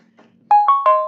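A mobile phone ringtone plays three rising tonal chimes, loud and close, after a brief low hum.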